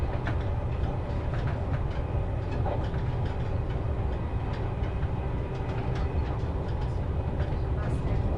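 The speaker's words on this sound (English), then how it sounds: "this is the train to Salzburg, and it seems to be pretty empty" Riding inside a fairly empty train bound for Salzburg, a steady low rumble of the carriage rolls on continuously, with faint rattles and wheel noise.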